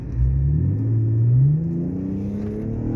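A 2001 BMW 325i E46 engine revs up close, a deep rising growl that climbs and then settles into a lower steady rumble.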